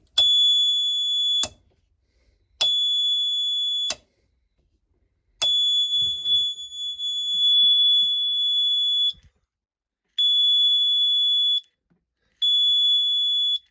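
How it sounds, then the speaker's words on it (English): A Morris Minor's sidelights reminder buzzer sounds loudly and steadily in repeated bursts of a second or two separated by silences, with faint clicks in between. "The buzzer will only sound when we have both."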